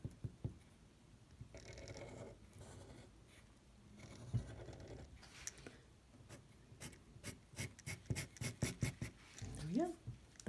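Pen strokes scratching across paper as rectangles are drawn for a midpoint graph, a soft rubbing patter that quickens into short repeated taps near the end, with a voice talking over it.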